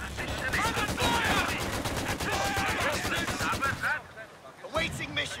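Covering gunfire in the Company of Heroes 2 strategy game with British forces, dense rapid machine-gun rattle and overlapping rifle shots, loud and continuous, briefly dropping off before more bursts, with soldier voice lines over it.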